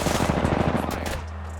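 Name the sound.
gunfire in the video game Apex Legends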